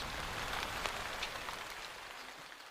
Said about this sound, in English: Anna and Roger, we're out of that rain now.